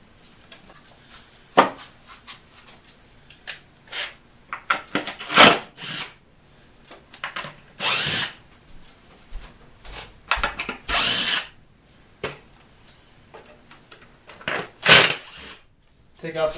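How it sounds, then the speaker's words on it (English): Power drill backing screws out of the stretchers under a wooden chair seat in short, separate whirring bursts, with pauses between them and a person talking. "Take out the 4 screws that run through the stretchers there."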